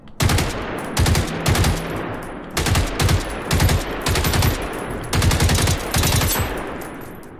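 Bursts of automatic gunfire from a gold-quality gun in the video game Generation Zero, several loud rapid strings separated by short pauses.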